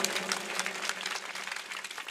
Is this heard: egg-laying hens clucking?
no